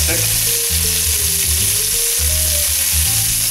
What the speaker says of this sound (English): Just finishing up sauteing all the pieces of rump roast off.